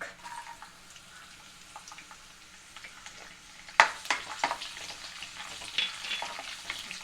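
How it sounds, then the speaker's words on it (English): Cumin seeds and finely chopped garlic sautéing on full heat, a steady crackling sizzle that turns louder midway with spatula scrapes and pops as the pan is stirred. "इसको थोड़ा सौटे करते हैं."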